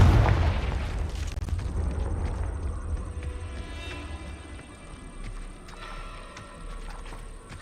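A heavy blast from Confringo and Bombarda spell explosions in Hogwarts Legacy booms loudly at the start, then fades into a lower rumble with lingering debris and ambient game music.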